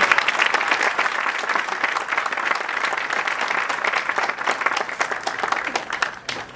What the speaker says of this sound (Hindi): आप सबसे अनुरोध है कि तालियों की जोरदार